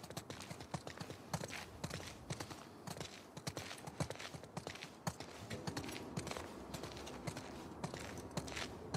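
Horse hooves clip-clop steadily at a walking pace, moderately close, with continuous rustling ambience and no talking, in The Last of Us Part II.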